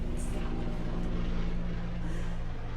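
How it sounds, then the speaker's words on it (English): A coastal helicopter passing low overhead, a loud continuous rotor and engine drone that holds steady throughout. "And you're hearing the coastal helicopter"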